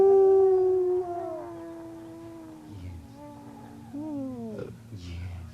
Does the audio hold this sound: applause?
no